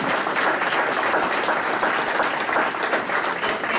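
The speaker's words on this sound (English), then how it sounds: "But mom and dad, let's give them a round of applause." Audience applauding parents at a city council meeting, a loud, dense and steady burst of many people clapping indoors without pause and with no voices over it.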